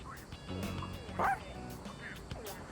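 A dog barks and whimpers in Persona 3 Reload, a few short yips and one louder bark amid game dialogue voices and background music.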